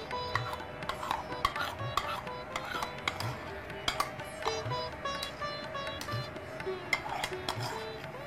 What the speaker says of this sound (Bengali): আবার নেড়ে দইটা পুরো ভাতের সঙ্গে ভালো করে মিশিয়ে দিলাম